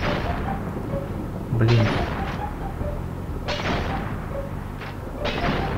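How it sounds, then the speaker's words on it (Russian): Explosions go off in the Crash Bandicoot video game, several booming thumps at irregular intervals over a steady game soundtrack, while someone talks over them. "Что-то взрывается явно."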